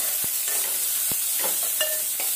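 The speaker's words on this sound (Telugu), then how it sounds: "ఇప్పుడు ఇంత మంచిగా వేగుతున్నాయి కదా" Ripe red chillies frying in oil for a radish chutney, giving a steady close sizzle broken by a few sharp scraping stirs of a spoon in the pan, with no talking.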